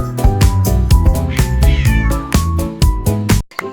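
A kitten meows several times in a bright, repeated pattern over a loud, rhythmic children's song with strong percussive beats and melodic instruments, the meows partly blended into the music.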